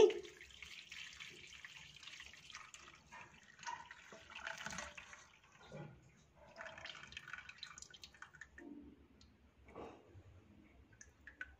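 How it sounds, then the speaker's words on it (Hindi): Wheat water drained through a muslin cloth laid over a coarse-holed sieve into a pan, for sohan halwa, giving soft, intermittent trickles and drips close by, quiet, with no talking. "दूसरे पैन में एक मोटी सुराख वाली छलनी रखी है इसके ऊपर मलमल का कपड़ा रख देंगे और इसमें इस पानी को छान लेंगे"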